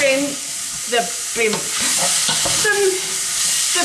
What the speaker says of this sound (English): I'm just going to continue to fry this until it starts to brown around the edges and around the sides of the beef